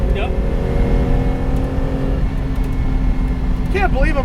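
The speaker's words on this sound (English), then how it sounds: "Can't believe I'm driving a Stratos." Engine of a 1975 Lancia Stratos HF Group 4 works rally car heard from on board while driving, a loud steady drone with a rising tone near the end, and no speech over it.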